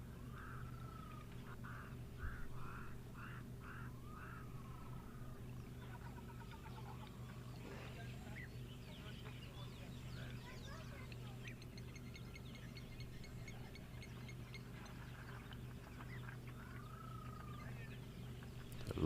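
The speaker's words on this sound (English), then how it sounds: "Lots of cool bird sounds at the moment as well" Birds, including mourning doves, call repeatedly, short chirps and warbling notes over a steady low outdoor hum, faint and somewhat distant.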